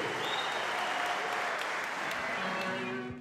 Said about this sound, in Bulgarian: силни аплодисменти за бойците